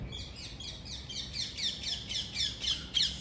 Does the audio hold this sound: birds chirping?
yes